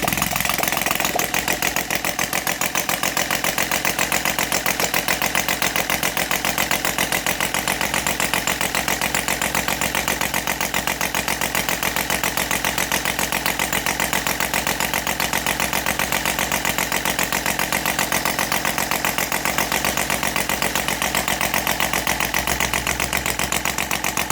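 A Saito 450 model aircraft engine converted to run on gasoline with CH ignition runs steadily for about twenty-four seconds as it warms up. The buzz is loud, close and constant, with a fast even firing rhythm.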